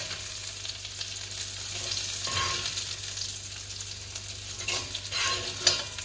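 Okra frying Trinidad style in hot oil, a steady close sizzle with occasional stirring scrapes and louder crackling bursts, no voices.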